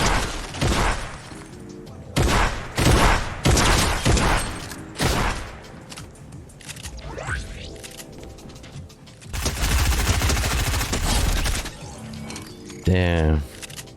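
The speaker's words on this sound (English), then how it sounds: "they're shooting at me" Video game gunfire: several bursts of rapid shots in clusters, loud and close, separated by quieter stretches with game noise and someone talking at times.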